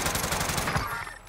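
Rapid automatic gunfire in the Call of Duty Warzone battle royale game, a dense continuous burst of shots with a sharp loud crack at the very end.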